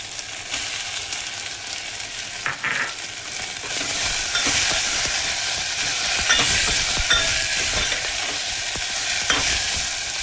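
Tomatoes tipped into sautéed onions for a Marathi mixed-dal amti hiss and sizzle loudly in the pan, the frying swelling after the addition into a steady crackle with occasional stirring scrapes.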